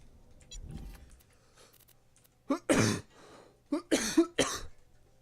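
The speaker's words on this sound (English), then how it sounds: "Sorry for the coughing." Several short, harsh coughs in quick bursts near the end, close by, after a quieter stretch with faint rustling and a low background hum.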